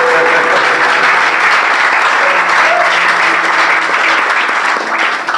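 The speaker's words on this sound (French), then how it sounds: "si vous acclamez Dieu, acclamez-le bien" Sustained loud applause and cheering from an audience at an evening book launch, a steady dense wash of clapping that carries through without pause before tapering slightly at the end.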